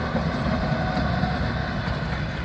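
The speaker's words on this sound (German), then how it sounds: "Was kommt denn da? Ja, so ein Dieselzug, oder?" A diesel train running without wagons passes close by, a steady loud rumble and roar of engine and rails that fills the whole stretch with no talking.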